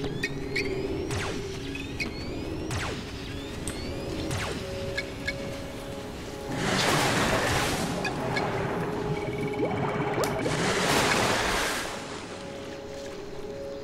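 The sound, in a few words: waterfall in the video game Serious Sam 2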